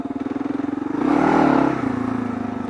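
A Kawasaki KLR650 motorcycle engine idles with a steady thump, then swells into a loud throttle rev lasting about a second before settling back to idle, close by with no talking.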